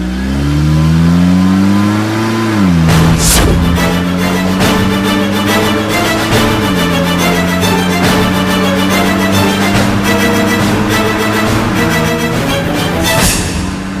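A car engine revving and shifting as the vehicle drives, loud and close, with pitch climbing, dropping at gear changes, then holding steady, no speech.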